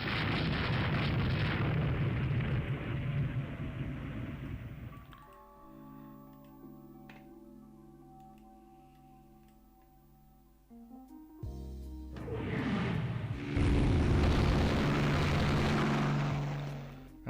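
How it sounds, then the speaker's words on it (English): Zeppelins bomb troops in a strategy video game, with heavy rumbling explosions and a droning aircraft engine. A quieter stretch carries a low sustained tone, then a loud blast of bombardment returns. "Now that means the Zeppelins are going to come out and start bombing them."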